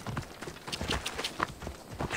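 Elk mount trotting in the video game Assassin's Creed Odyssey: a quick, fairly soft clip-clop of hooves in an irregular rhythm, heard alone.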